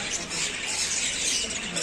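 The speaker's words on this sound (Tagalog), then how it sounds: "Mga parakit." Parakeets and other caged birds at a pet market in Riyadh, Saudi Arabia keep up a dense, continuous chorus of shrill squawks and chirps, close and loud throughout the short stretch.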